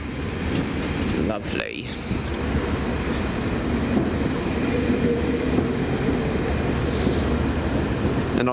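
A six-coach Spa Valley Railway heritage train rumbles steadily as it draws to a halt at Eridge station, with wheel and carriage noise sustained throughout and a brief spoken remark near the start.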